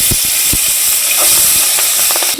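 Hilsa fish fries in hot oil in a wok, a loud, close, steady hiss with a few low knocks and clinks through it and no talk.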